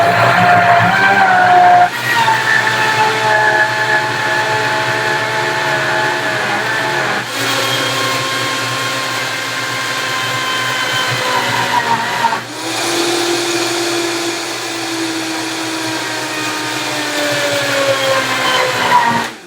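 A blender whirs loudly while blending a raw vegan chia seed cracker mix, running close and steady for many seconds, its motor pitch stepping up and down as the speed changes.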